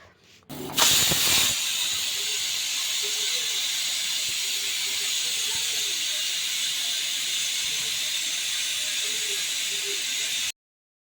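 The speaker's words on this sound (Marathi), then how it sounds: "मी चार ते पाच शिट्ट्या घेऊन कुकरला घेतल्या" A pressure cooker whistle, cooking vegetables for pav bhaji, bursts out and then hisses steam steadily for several seconds before cutting off abruptly.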